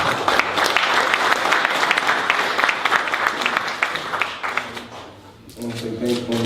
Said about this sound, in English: a big round of applause, the president of Mayweather Promotions